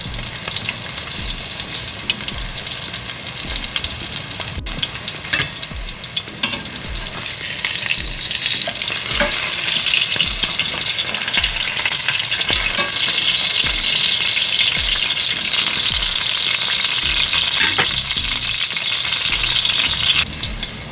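Pesto salmon patties frying in a pan, a loud, continuous close sizzle with crackling and occasional stirring scrapes, steady throughout with no voices.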